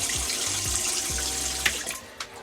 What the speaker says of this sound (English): We use a Whale water pump and a simple on-off switch for the water.